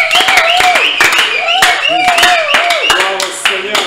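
Congregation clapping and cheering during a worship prayer service, loud rhythmic clapping over an excited preacher's voice and shouts, dense and close throughout.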